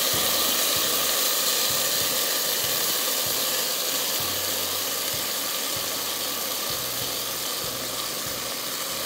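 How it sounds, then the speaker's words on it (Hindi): Broken rice roasting with garam masala in a pan for kheer: a continuous loud sizzling hiss with intermittent low knocks and scrapes as it is stirred, and no speech. "इस चावल को आप गरम मसाले के साथ भून लीजिए ताकि आपकी खीर में बड़ी अच्छी खुशबू आती है"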